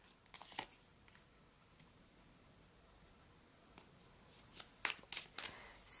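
Deck of oracle cards being shuffled close by, quiet riffles and taps in short bursts separated by near silence, growing busier toward the end.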